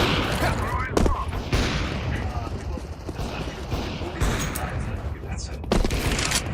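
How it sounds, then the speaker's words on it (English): A thrown bomb explodes amid sustained gunfire in a shooter game, a dense, loud barrage of shots and blasts filling the whole stretch, with voices talking over it. "Throw in the bomb."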